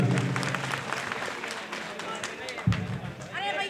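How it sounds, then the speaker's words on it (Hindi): A crowd at a Delhi election rally in Janakpuri claps, a fairly faint, muddled spread of applause over a noisy outdoor background, with a sharp thump partway through and a voice briefly audible. "एक बार जोरदार तालियां अपने लिए बजा लीजिए"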